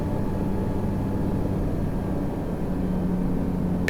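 A seaplane on final approach for a glassy water landing on a lake, its engine and cabin drone a loud, steady hum heard from inside.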